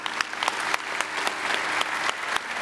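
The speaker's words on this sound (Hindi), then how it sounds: "जोरदार ताली बजा दो इस बालक के लिए" An audience at a health and fasting programme breaks into steady, dense applause, a continuous wash of many hands clapping with a few sharper individual claps standing out.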